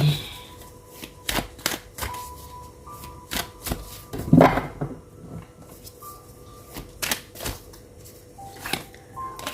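Tarot cards are shuffled by hand in repeated short riffling bursts with pauses between them. The sound is close and fairly quiet, with no talking.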